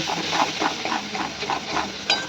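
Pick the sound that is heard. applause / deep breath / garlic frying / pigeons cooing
garlic frying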